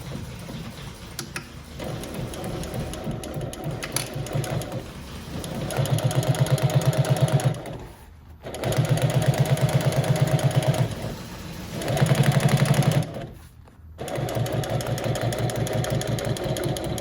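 Sewing machine stitching harness leather tote bag panels, running in several steady buzzing bursts separated by short pauses, with a low motor hum between runs.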